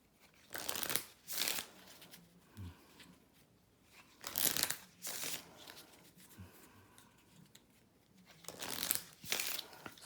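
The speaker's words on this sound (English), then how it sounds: "you can deal 10 cards to each person" Playing cards being dealt for the Lexicon card game, several brief papery bursts of shuffling and sliding cards separated by quiet pauses, close and soft.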